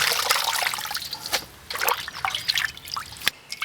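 Hot water is poured over mugwort leaves to blanch them, an uneven trickling and splashing with small drips and sloshes, quiet and close, with no talk.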